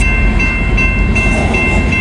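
A coal train rolls past close by in bright sunshine, a loud, steady low rumble and grinding roar of heavy wagons filling the whole moment without a break.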